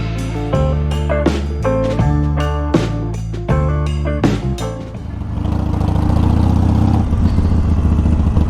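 A Harley Sportster ridden through Philadelphia streets at night, with loud music over the first half before a steady, close engine roar and wind rush take over.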